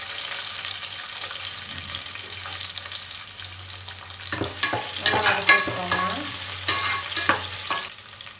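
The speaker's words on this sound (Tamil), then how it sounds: "அடுத்ததா நறுக்கி வச்ச வெங்காயத்தை சேர்த்துக்க போறோம்" Chopped onions hit hot oil in a cooker for vegetable brinji, a steady sizzle joined by scraping and stirring clatter that grows busier and louder toward the end.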